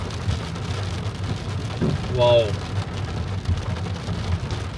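Heavy rain drums steadily on a car while driving in Riyadh, a constant hiss under low road rumble. A voice briefly exclaims partway through.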